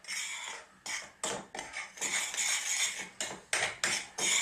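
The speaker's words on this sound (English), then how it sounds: "So we're just going to mix that in." Chili, cumin, turmeric and coriander are mixed into flour with a utensil, producing a run of close scraping and clinking strokes against a bowl in an uneven rhythm.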